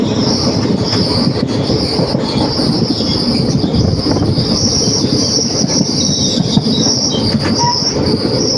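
A train rumbles steadily along the rails between Palakkad and Ernakulam in Kerala, with a continuous low roar, faint metallic wheel squeal and a hiss throughout, heard close and loud.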